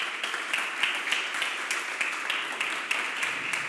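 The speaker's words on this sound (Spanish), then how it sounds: "¿Le puedes dar un aplauso a nuestro Dios en esta hora por eso?" Applause from a congregation during a Spanish-language church sermon, a steady crackling wash of many hands clapping at moderate distance, continuing evenly without speech.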